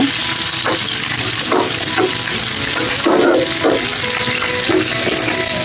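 A sambar tempering with curry leaves crackles and sizzles in a hot pan, steady frying hiss broken by a few stirring scrapes and spoon knocks, close and loud with no voices.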